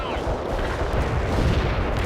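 Grenade blasts and gunfire in a war video game battle between Russian forces and American resistance at Snoqualmie River, heard as dense, loud rumbling explosions and shots that run on without a break.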